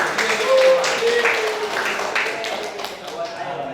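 Students in a classroom clap for a classmate, a steady mid-level patter of many hands over a few seconds with a voice briefly heard over it.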